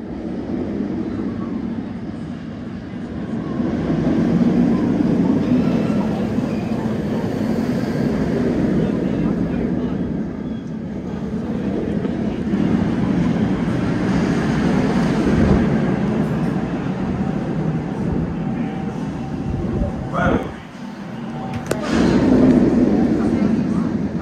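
Batman roller coaster at Six Flags Great Adventure rumbles steadily through a long ride, the train's roar rising and falling with a few sharp clanks near the end, amid crowd and wind noise.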